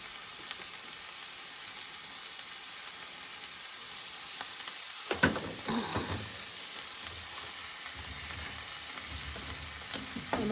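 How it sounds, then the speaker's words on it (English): Home-canned pasta sauce hits a hot pan over a faint background hiss, bursting into a loud crackling sizzle that settles into steady bubbling frying with occasional stirring scrapes. "Now we're going to add our pre-made home-canned pasta sauce."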